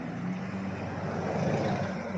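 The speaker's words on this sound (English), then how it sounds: "I apologize for the traffic" Road traffic passing close by a backyard fish pond, a steady broadband rumble of vehicles holding at a constant level throughout with no pauses or talk.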